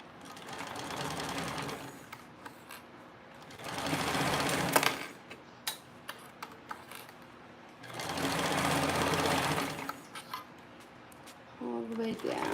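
A sewing machine stitches a leather slip pocket, including back stitching, in two sustained bursts of rapid mechanical whirring separated by quiet gaps filled with light clicks and handling sounds, then a short start at the end.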